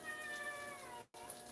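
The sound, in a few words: cat meowing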